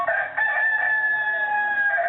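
A synthetic rooster crow plays from the small speaker of a Cobolt Speechmaster T-10 talking alarm clock, a single drawn-out cock-a-doodle-doo, thin and tinny, with no talking.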